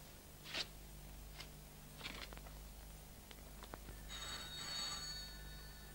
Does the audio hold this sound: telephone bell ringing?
yes